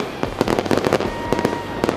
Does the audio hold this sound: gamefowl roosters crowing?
no